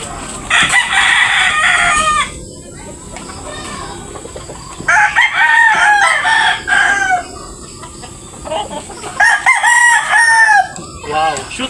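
Boston Roundhead gamefowl roosters crow loudly and close three times in succession, with clucking and farmyard chatter filling the gaps between calls.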